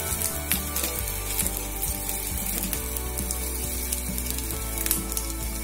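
Urad dal, chana dal and cumin fry in hot oil, a steady, fairly faint sizzle with light crackles running throughout, no voices over it.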